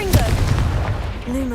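Confringo blasting curse cast in Hogwarts Legacy, a loud booming blast with rumbling low-end impact at the start that decays over about a second, a brief tonal sweep following.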